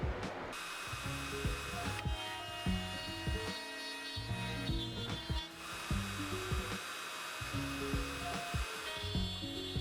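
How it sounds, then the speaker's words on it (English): A domino jig joins wooden pieces for a console table, its motor whirring in repeated bursts with shifting pitch, fairly close and steady, with brief pauses between plunges. "Now I'm going to use the domino jig to set all my pieces together."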